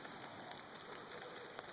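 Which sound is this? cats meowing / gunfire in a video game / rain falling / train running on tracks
rain falling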